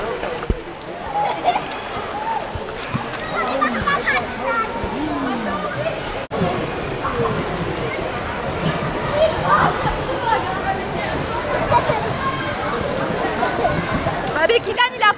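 Water splashes and churns continuously in an indoor wave pool while children shout and talk nearby, with a busy, echoing wash of sound.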